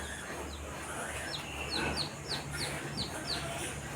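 A mother hen gives a series of short, rhythmic clucks against a steady farmyard background hum, fairly close and clear.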